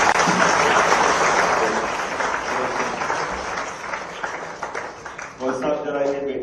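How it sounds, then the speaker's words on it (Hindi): A large audience at a public welcoming ceremony for a champion daughter claps in a dense, sustained burst of applause that gradually thins out, with voices and talk emerging as it fades. "तो क्रांति के लिए ताली बजाएं"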